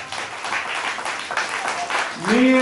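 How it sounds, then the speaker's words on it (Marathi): An audience claps together in a room at a Marathi public talk, the steady broadband applause running throughout and swelling near the end as a voice briefly rises over it. "टाळ्या वाजवा जोरात."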